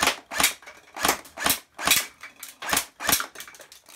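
Airsoft guns firing at targets during a team shooting challenge: a rapid series of about nine sharp, close snaps in an uneven rhythm.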